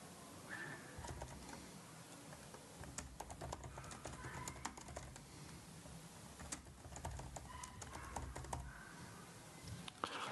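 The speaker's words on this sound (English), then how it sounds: "Just clicking on it, and then I can start typing." Someone types on a computer keyboard in quiet, irregular runs of soft key clicks. It is close and faint, with no voice over it.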